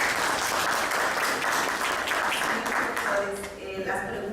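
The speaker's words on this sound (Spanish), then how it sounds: "Recibamos con fuertes aplausos" Audience applause at a lecture on constitutional and labour law, a steady sustained clapping from a crowd that stays loud throughout, with speech-like murmuring mixed in near the end.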